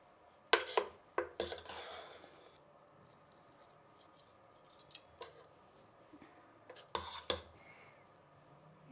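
A spoon scrapes and clinks against a steel pot and plate while serving freshly cooked jeera rice, with a few sharp bursts early on and later, separated by quiet pauses.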